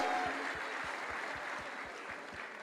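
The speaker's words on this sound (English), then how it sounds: "I hope you keep up the applause again for all our performances" Audience applause at a school performance event, a broad wash of clapping from a crowd filling the room, steady and moderately loud, with a regular low thumping running beneath it.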